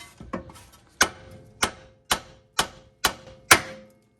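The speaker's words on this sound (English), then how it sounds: "I'm going to pop it with the hammer" A hammer strikes a tie rod end on a Mitsubishi Lancer with sharp, ringing metallic blows, about seven of them, evenly spaced roughly half a second apart, close up and with no talk.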